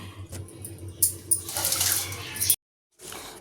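Tap water runs in a short burst over lentils being washed for cooking, a bright hissing stream lasting about a second and a half before cutting off abruptly, with faint background noise around it.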